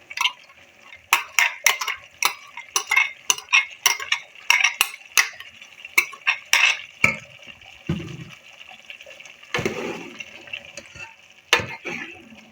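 A spoon stirs tomato paste into chicken curry in a metal pot, giving repeated scraping and clinking strokes in an uneven rhythm, close and fairly loud, with a few wetter splashy moments.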